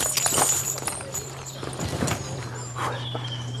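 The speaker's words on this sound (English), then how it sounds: "While Peter fixes the gin, Alex is tacking up the horse." A farm horse being tacked up shifts on a hard floor, with a few scattered hoof clops and knocks at close range, a low hum underneath and brief voices nearby.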